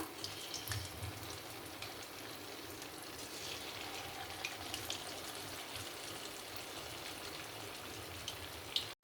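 Paneer 65 pieces frying in oil: a faint, steady crackle and hiss of bubbling oil with small popping bursts, continuous at low level for several seconds.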